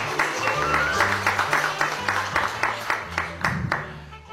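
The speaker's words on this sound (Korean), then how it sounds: "여러분 큰 박수로 훌륭히 모시겠습니다." Warm, sustained applause from an audience welcoming a speaker at a literary talk, with a steady rhythmic patter over low musical tones in the background, fading slightly at the end.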